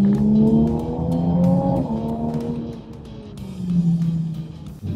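Toyota Supra sports car engine droning steadily nearby, with pitch shifting as it accelerates and eases off, a sustained loud hum with no voices.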